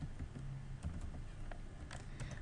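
Soft keyboard typing, a handful of quick, light keystrokes clicking irregularly against a low, steady background hum.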